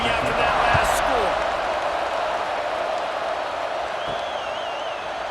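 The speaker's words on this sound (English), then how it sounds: "this crowd is buzzing after that last score" Football stadium crowd buzzing after a touchdown in a 2001 college playoff game between LSU and Florida, a broad steady roar at a distance with a few brief bangs and a whistle-like tone.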